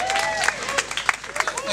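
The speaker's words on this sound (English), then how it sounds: "Give him a round of applause." An audience at an event claps, with quick scattered hand claps in a short burst.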